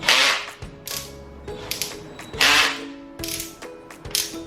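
Xenon CDID707 cordless impact drill with its clutch slipping and ratcheting in repeated mechanical bursts, loud and close, each click run lasting about half a second, with no one talking.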